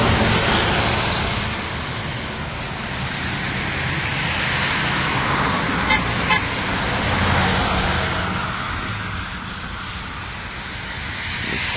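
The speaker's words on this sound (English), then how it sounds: "Car on the highway." A car passing on a highway beside an outdoor sculpture garden built from road signs, heard as a steady, fairly loud broadband roar that swells gently and holds through the whole stretch.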